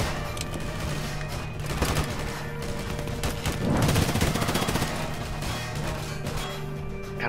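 Enemy gunfire in a video game battle at a mining outpost: continuous distant shooting and volleys mixed with booms, steady and dense throughout with no clear pauses.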